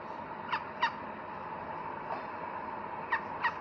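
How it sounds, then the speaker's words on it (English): A duck on a river calling, giving short nasal calls in two pairs at the start and end with a single fainter call between, alone against quiet background noise. "Like, those are the noises that this beautiful duck made"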